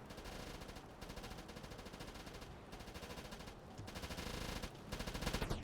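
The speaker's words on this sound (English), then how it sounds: "They are shooting us." Machine-gun fire rakes a submarine in the U-Boat video game, a steady stream of rapid, continuous bursts hammering the hull at moderate level for several seconds, with no talking.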